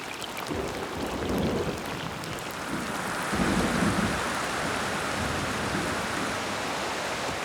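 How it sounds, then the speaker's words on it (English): Steady rain pours down in a South American rainforest while low thunder rumbles roll in a few times, the isolated storm sounding fairly close and continuous. "This is an isolated storm"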